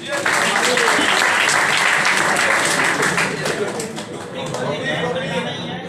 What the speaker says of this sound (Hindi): चलिए ताली सुनते हैं।